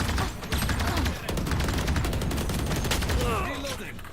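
Dense gunfire during a Valorant match, loud and near, with clustered shots and a shotgun among the weapons, and voices faintly under the fighting.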